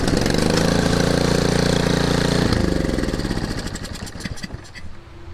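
A repaired snow blower engine on choke, fitted with a new valve gasket and exhaust gasket, runs loud and close with a rough, chugging roar that gradually fades and turns uneven toward the end.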